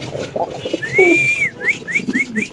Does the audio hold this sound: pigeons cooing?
yes